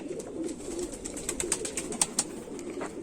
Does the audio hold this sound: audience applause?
no